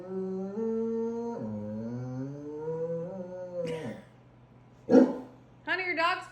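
A big English mastiff howls in long, wavering, drawn-out tones, then breaks into a couple of short, loud barks near the end, close by and mostly alone.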